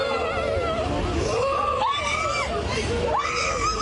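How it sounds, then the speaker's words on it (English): Young girls cry and scream in distress during a police encounter, with overlapping wailing, sobbing cries and a rough crowd-like background. "the girls can be heard crying and screaming"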